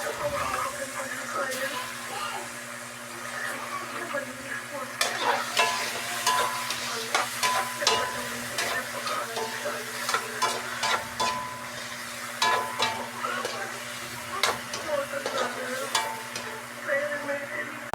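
Milkfish sautéed in a pot for sinigang na bangus with banana blossom, a sustained sizzle under repeated clinks and scrapes of a stirring utensil, with a steady low hum behind it.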